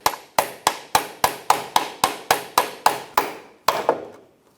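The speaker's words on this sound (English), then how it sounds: "we're going to put our hammer on the back side of the axle and tap it" Sharp metallic hammer taps on a pry bar against the front CV axle of a 2003-2007 Infiniti G35, in a steady rhythm, about a dozen evenly spaced blows close up, with a short pause before the final two.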